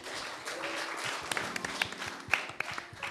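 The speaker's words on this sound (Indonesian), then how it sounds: "tepuk tangan dulu dong" An audience at an event about river-cleanup volunteers gives a moderate round of applause, scattered individual claps standing out sharply over a softer bed of clapping, with faint voices beneath.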